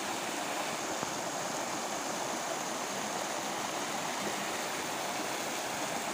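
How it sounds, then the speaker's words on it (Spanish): Waterfall on a jungle river, a steady, dense rush of falling water that stays constant and fairly loud throughout, with no voices or other sounds. "Ahí ya hay una cascada."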